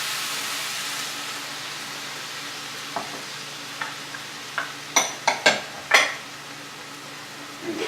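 Vegetables with reserved turkey fajita marinade cooking in a hot pan, a low steady sizzle with a run of sharp clattering scrapes and stirring knocks partway through.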